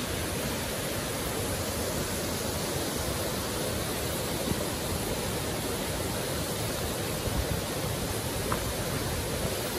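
Jal Jale waterfall in Pokhara, Nepal, a steady, dense roar of falling water, broad and unbroken, heard close for the whole stretch with no voices.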